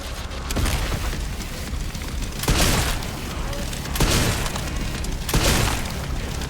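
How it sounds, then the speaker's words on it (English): A grenade blast in the video game Resident Evil Requiem, heard as a series of loud, heavy booms that repeat every second or two over a rumbling background. "Just gonna grenade him."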